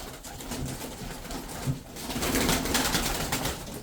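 Tumbler pigeons from Kırşehir cooing in a loft, soft overlapping coos under a busy wash of flock noise and rustling, fairly close and continuous.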